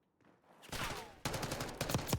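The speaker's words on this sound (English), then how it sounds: "Just slide out and start shooting me." Rapid automatic gunfire in the Black Ops 6 video game, several sharp bursts in quick succession, loud and close, with no talking.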